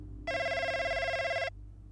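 An in-game telephone in F1 23 Braking Point 2 gives a single electronic ring lasting about a second, bright and tonal over a low background hum.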